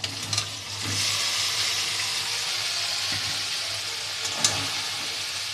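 Fried chicken pieces frying in yogurt masala, a loud continuous sizzle with occasional stirring scrapes, close and without talk.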